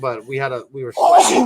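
A single sharp sneeze bursts out right after a man's brief speech, loud and close.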